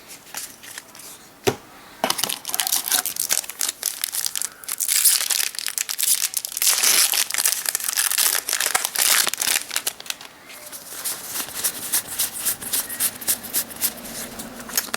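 Crinkly plastic foil of a Magic: The Gathering Shadows over Innistrad booster pack being torn and crumpled open, a sharp snap followed by a long stretch of close, dense rustling and crackling.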